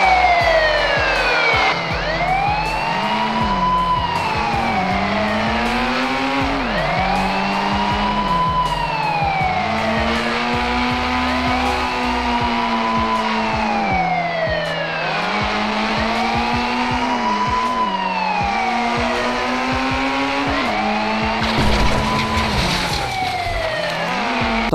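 Police car in the Indian Bikes Driving 3D mobile game drives along with its wailing siren rising and falling in regular cycles over a continuous engine hum, loud and unbroken, no speech.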